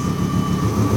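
A VW Lupo GTI with a swapped VR5 engine runs just after its first start, giving a loud, steady, droning engine note with an even hum throughout, close to the car with no talk.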